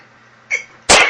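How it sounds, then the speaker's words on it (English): A brief sharp inhale, then one loud, close sneeze. "I had a little sneeze there"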